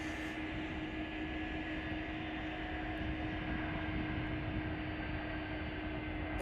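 Air China Cargo Flight 1017 idles at Chicago O'Hare, a faint, distant, even engine drone with steady tonal whine and no voices.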